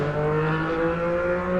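Cars hum along a busy Miami Beach street at night, a steady close engine drone with a rising tonal note, no talk over it.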